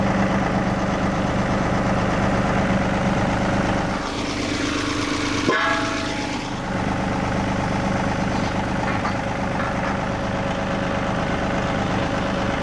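A tractor engine runs at a steady idle, a continuous loud rumble that holds throughout, with a brief dip and a clunk partway through.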